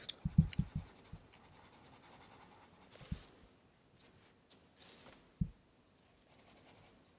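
A coloured pencil shading fabric in a drawing, with soft close scratching strokes that come in short clustered bursts and scattered single taps, quiet and intimate, and no talk.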